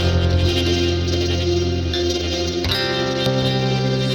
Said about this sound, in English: Well, there's some distortion there.